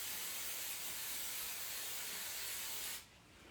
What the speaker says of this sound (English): I'm going to spray it with hairspray